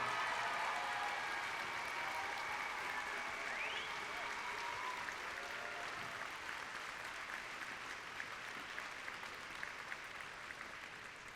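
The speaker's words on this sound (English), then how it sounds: "I would like our students to give you the best round of applause that they can give." Students applaud their mentors at the opening ceremony of a district championship, a sustained, dense roar of clapping from a large crowd that holds steady for over eleven seconds and fades slightly toward the end.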